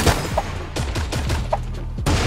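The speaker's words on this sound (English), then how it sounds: "Who's shooting me now?" Gunfire crackles in the video game Creative Destruction: quick bursts of close, loud shots repeat in an uneven rhythm for about two seconds.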